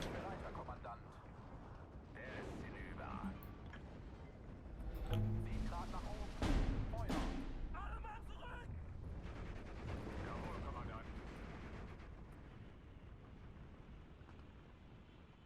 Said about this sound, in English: Good, that artillery is working out there.